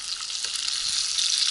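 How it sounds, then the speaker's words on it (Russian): Fish fries in a pan at a Far East fishing camp, giving a continuous bright, hissing sizzle with small crackles, close and steady throughout. "Жарим рыбку."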